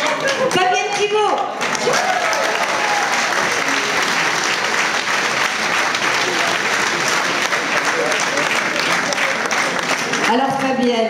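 An audience at a Super Mamie 2013 election event in Nice breaks into loud, sustained applause that fills the room, with a voice talking over it at the start and again near the end.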